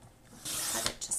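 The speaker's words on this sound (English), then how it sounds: "we will go ahead and trim this with our paper trimmer so that it fits across that heart tab" A paper trimmer slices through a sheet of scrapbooking paper in one short, quiet sliding rasp lasting under a second, with no voices.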